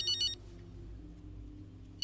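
A phone ringtone in the F1 23 racing video game chirps in short electronic bursts at the start and again at the end, fairly faint over a low background hum.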